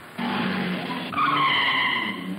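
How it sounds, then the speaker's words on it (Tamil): A car's tyres screech hard as it skids to a stop in a 1980s gangster film scene, a loud squeal lasting about two seconds that climbs in pitch partway through. "டிரைவர் ஏன் வண்டியை நிறுத்திட்ட?"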